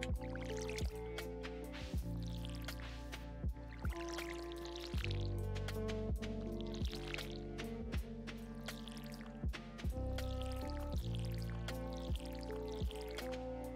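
Parsnip seedlings on a Stardew Valley farm get watered from a watering can, soft repeated splashes landing in a steady rhythm over cheerful game music with tinkling melodic notes.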